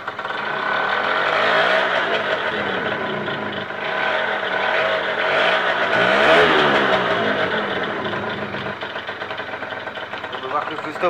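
A car engine revs up and falls back in a couple of broad swells, steady and fairly close, with no talk over it.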